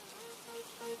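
A cartoon rain sound effect from a dark, ghostly scene gives a soft, even patter of falling rain with faint tonal blips, quiet and brief.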